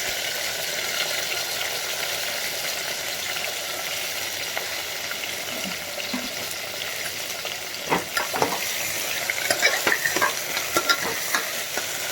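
Eggplant frying and being stirred with garlic in a pan for a Gujarati eggplant and potato curry, a steady close sizzle throughout with a cluster of louder stirring scrapes and clatters near the end.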